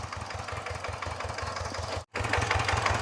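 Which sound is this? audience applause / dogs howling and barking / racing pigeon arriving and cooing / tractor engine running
tractor engine running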